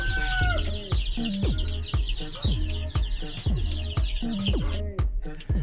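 Many chickens cluck and squawk in a busy, continuous chorus inside a grower house, close by and fairly loud, with overlapping calls throughout.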